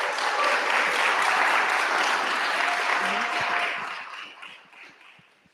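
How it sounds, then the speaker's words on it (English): Audience applause at a startup pitch night, a dense sustained clapping from a crowd that holds steady for several seconds, then thins out and fades toward the end. "So give him a round of applause."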